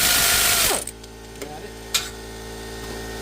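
A ratchet turns a bolt on the torque converter plate of a 2000 Ford F-250. A loud mechanical whir cuts off early, then a few sharp, close clicks follow over steady background noise.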